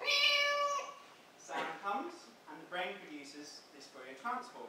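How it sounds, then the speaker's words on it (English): A domestic cat's meow played as a sound example, one clear harmonic cry at the start followed by someone talking over the rest. "and it says, ah, that's a cat."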